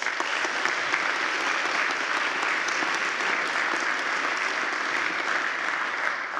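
Audience applause at a conference, a loud continuous wash of many hands clapping at an even level throughout.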